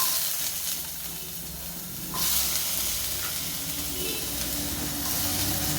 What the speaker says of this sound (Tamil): வானலில் இந்த வெங்காயம் தக்காளி எல்லாம் போட்டுடுறேன்.